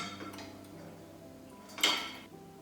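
A spoon spreads two spoonfuls of oil around a pan with quiet metallic clicks and scrapes, then a louder brief scrape and clatter near the end, close by.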